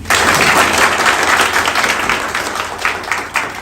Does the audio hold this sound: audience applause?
yes